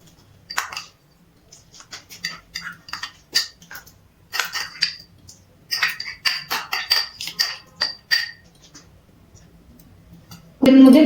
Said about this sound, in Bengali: এর মধ্যে গোবিন্দভোগ চালটা দিয়ে ভালো করে একটু নাড়াচাড়া করে দিচ্ছি হাতা দিয়ে